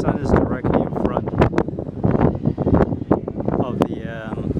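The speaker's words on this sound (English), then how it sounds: "even though it's windy like crazy" Strong wind buffets the microphone on the open deck of the NCL Jade cruise ship at sea, a steady loud roaring gust noise running throughout under continuous close talking.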